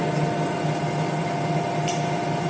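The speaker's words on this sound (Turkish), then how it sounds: "Tezgahımı çalıştırıyorum." A metal lathe hums steadily with a constant motor tone and light whirring, close by, with one faint brief tick partway through.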